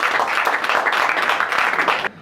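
Audience at a French stand-up comedy show applauding in a dense, steady wash of clapping, cutting off abruptly near the end.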